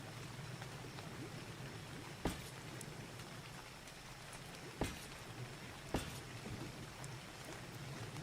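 Steady rain hiss falls throughout in the ARK survival game, broad and even, with a few sharp louder drops or splashes standing out briefly; no talk.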